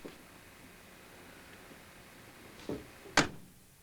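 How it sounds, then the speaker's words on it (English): A quiet moment, then a soft thud and a sharp, solid slam as the door of a 1967 Camaro SS 396 shuts nearby. "Closes perfectly."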